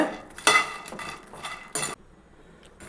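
Lotus seeds (makhana) dry-roast in an empty pan on a low flame, with close, intermittent rattling and scraping bursts as a utensil stirs them, followed by a near-quiet stretch.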